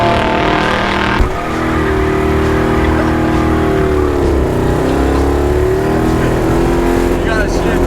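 A multi-cylinder car engine runs steadily while driving in low gear, a dense low drone with shifting harmonics as revs rise and dip, with people talking over it.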